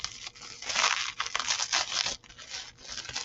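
Plastic wrapping of a bead order package crinkles and tears as it is pulled open, a close, loud, continuous rustle with several sharper rips, no voices.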